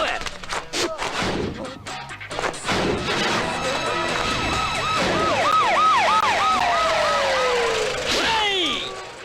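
An ambulance siren wails in repeated rising and falling sweeps that swell up loud and near, following a stretch of crashing clatter and commotion, then ends in a long falling tone.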